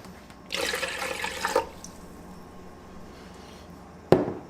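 Chicken broth and water pour into a Ninja Speedi cooker for kalua pulled pork, a steady liquid splash lasting about a second, then a quiet pause and a sharp knock near the end.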